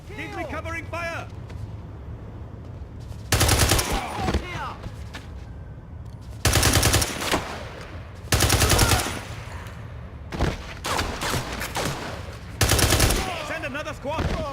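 Video-game gunfire in James Bond 007: Blood Stone, set in Bangkok, comes as loud, dense automatic bursts in several long volleys between stretches of ambient noise and voices.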